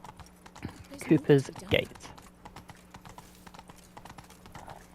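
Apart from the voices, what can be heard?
horse hooves clip-clopping while riding in video game Witcher 3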